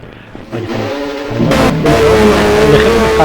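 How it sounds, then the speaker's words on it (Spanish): A vintage Formula 1 race car engine starts as a low, uneven idle and then swells into a loud, sustained high-pitched roar as it revs up close by. "Pedro Rodríguez, y veis que cada coche suena de una manera."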